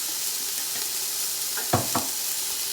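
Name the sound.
vegetable fried rice sizzling with Chinese sauce, being stirred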